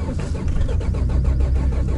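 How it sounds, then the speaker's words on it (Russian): Nissan X-Trail engine starting and running in harsh cold wind: a loud, steady low mechanical churn with a rapid rhythmic pulse, close and continuous, with no talking. "дай бог, чтобы завелся этот автомобиль"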